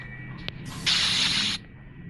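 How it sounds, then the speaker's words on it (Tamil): Pepper spray fired in the Granny horror game: one sharp hissing burst of about a second, standing alone against a quiet background. "மறுபடியும் பெப்பர் ஸ்ப்ரே அடிச்சுட்டு நம்ம போயிட்டோம்."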